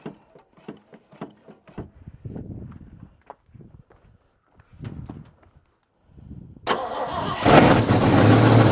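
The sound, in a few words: scrap truck engine cranking and trying to start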